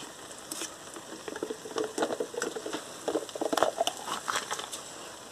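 Turkey breast strips being stirred together in a pan with yogurt over low heat: quiet irregular scraping and wet patter from the spoon, with soft gentle sizzling underneath.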